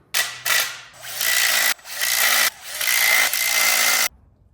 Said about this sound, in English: I'm gonna go ahead and just use my impact real quick, and then later I will torque them